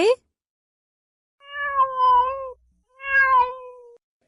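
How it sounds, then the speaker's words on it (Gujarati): A cat meows twice, close and distinct, each drawn-out call separated by a short pause in otherwise quiet surroundings. "બિલાડી બોલે"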